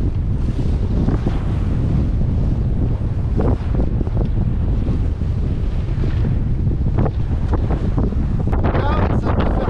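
Strong wind roars over the microphone aboard a sailboat heading toward Portugal, pushing almost straight into the wind and waves, with steady dense noise and repeated wave slaps and splashes against the hull throughout.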